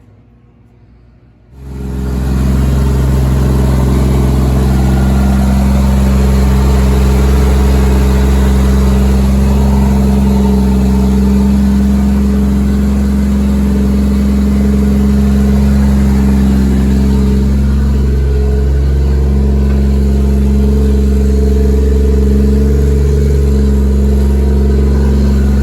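A Toyota Supra MK4 with HKS parts cranks and fires up after brief quiet, then settles into a loud, close idle with steady low rumble and occasional light revs, no talk over it.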